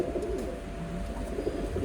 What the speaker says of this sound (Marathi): माझं फेवरेट कबूतर कुठं तो बघा वरती भारीच दिसते.